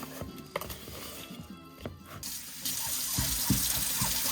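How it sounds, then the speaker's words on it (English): Running tap water splashes over a cutting board being washed in a kitchen sink, starting after some clattering and then flowing steadily and fairly close, with handling knocks under the stream. "I'm just giving my board a good washing so that I can cut up my veggies next"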